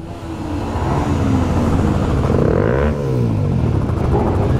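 Several motorcycle engines run together at a roundabout in Bielefeld, a loud, close rumbling roar that swells as revs rise, with a sweeping pitch change near the middle.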